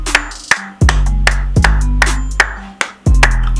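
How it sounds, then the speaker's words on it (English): A single person claps hands in sharp, distinct claps at an uneven rhythm, loud and close, with no talk alongside. "Clap it up for my boy"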